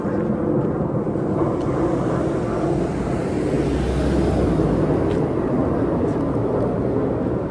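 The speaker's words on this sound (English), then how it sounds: "Another plane taking off from Logan." Jet airplane taking off from Logan airport in Boston, a loud continuous broadband roar heard from a waterfront street, steady throughout and swelling slightly in the middle.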